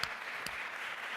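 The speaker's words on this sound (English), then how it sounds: "Please give a round of applause for our" An audience applauds panelists at a panel discussion, a brief, steady wash of many hands clapping with a couple of sharper claps standing out near the start.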